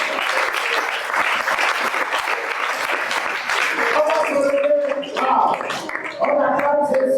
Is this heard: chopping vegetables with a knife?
no